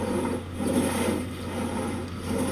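Two men work a pit saw through wood beside a historic water-powered flour mill, the blade rasping in steady rhythmic strokes that swell and fade at close range, with no talk over it.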